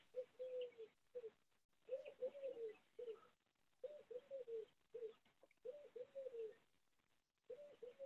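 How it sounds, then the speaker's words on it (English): A bird calls outside in the countryside, soft hooting notes repeated in short phrases with pauses between them, faint and distant and heard alone. "I hear an owl."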